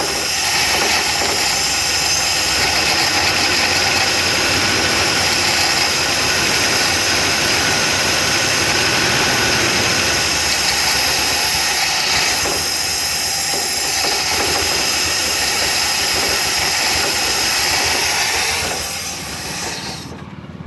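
An abandoned van's two-stroke engine runs steadily with throttle applied, a loud, continuous roaring hiss that holds for about twenty seconds before easing slightly at the end.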